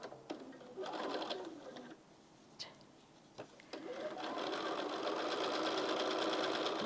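A sewing machine stitches quilt star sashing pieces in bursts of close, fast, steady whirring, with brief pauses and clicks between runs before one long continuous stitch.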